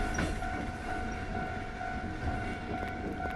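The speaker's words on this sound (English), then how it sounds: "Train looks normal." A train rolling past a railroad crossing, a steady rumble of railcars with a sustained horn-like tone held throughout and faint clicks of wheels, fairly close and with no talking.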